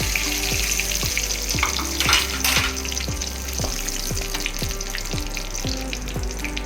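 Cinnamon, cloves, star anise and bay leaf frying in hot oil: a steady close sizzle with regular, rhythmic scraping strokes of a spoon against the pan, and no voices.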